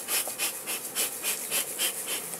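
Honey bees swarm around an opened hive as it is split, a dense, steady buzzing that swells and fades in quick rhythmic pulses, close and fairly loud with no voices.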